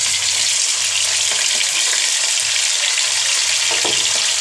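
Chicken frying in hot oil with garam masala, a loud, constant crackling sizzle up close, with intermittent soft stirring thumps beneath it.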